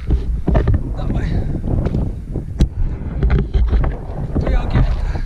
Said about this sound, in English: at least the wind's picking up to cool me down